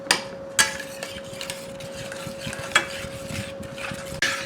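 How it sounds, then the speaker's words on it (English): A garlic butter sauce with steak bites sizzling in a pan, stirred with a utensil that scrapes and knocks against the metal at intervals, close and fairly loud, over a faint steady tone. "we're going to stir it until it starts to thicken up a little bit, and all of the butter melts"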